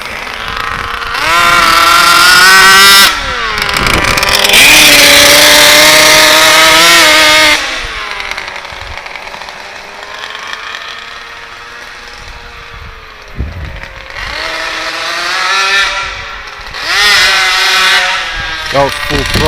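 A 100cc ALX engine on a yellow retread go-kart revs hard at full throttle, loud and close with rising and falling harmonic whine, dropping to a lower drone before surging again, with voices over it.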